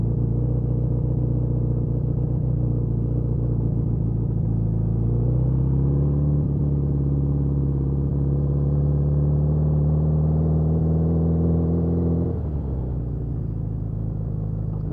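A 1981 Suzuki GS650GL motorcycle engine idles and revs up steadily at close range, its pitch rising and holding before dropping back to idle near the end, with no talking.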